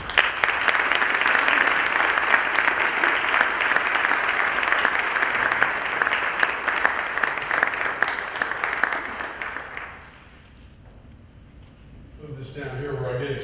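A lecture audience applauding to welcome a general as speaker, dense sustained clapping for about ten seconds that stops abruptly, then a voice begins talking.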